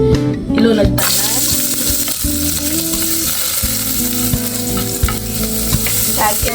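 Garlic and onion dropped into hot cooking oil in a home kitchen, sizzling and frying steadily with occasional stirring scrapes and clinks of a utensil against the pan, loud and close throughout.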